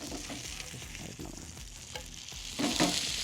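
Avoli fish in a thick coconut milk gravy sizzling and bubbling in a pan, with soft scraping as the pieces are turned, close and steady throughout, without talk.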